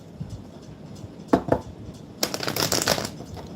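Tarot cards being shuffled close by in a quiet room: a few soft taps, then a rapid riffling burst of flicking card edges near the end.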